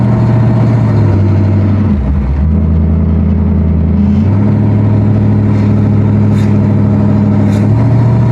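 A 1955 Oldsmobile with a 4L60E automatic transmission drives along, its engine droning loudly and steadily with audible pitch drops as the gearbox shifts up, continuous and close with no talking.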